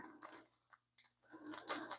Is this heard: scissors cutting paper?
yes